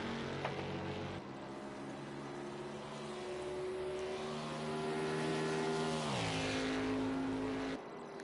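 A race car on its out lap at Watkins Glen in the PC racing game Project CARS 2, its engine droning steadily with a tone that climbs through the gears, drops briefly at a shift and then rises again.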